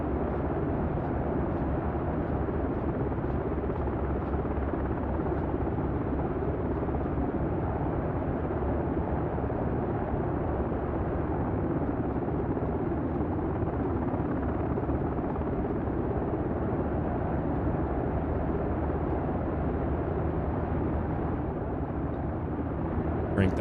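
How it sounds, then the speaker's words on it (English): Black Hawk helicopter engine in the DCS World flight simulator, a steady, loud, broadband roar that holds unchanged for the whole stretch with no talking over it. "God, that Black Hawk is loud."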